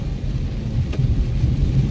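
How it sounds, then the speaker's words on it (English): Rain falls with a deep, rolling rumble of thunder beneath it, a loud continuous low roar and hiss filling the whole stretch. "See, the rain calmed down just in time."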